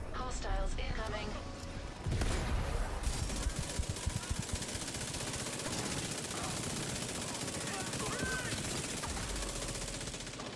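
A light machine gun fires from the hip in a video game, letting off rapid bursts of close, loud shots. The bursts sit over dense game noise, and voices are heard through it.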